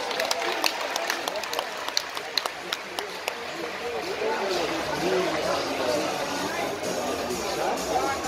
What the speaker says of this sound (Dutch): De applaus voor Jurre 495.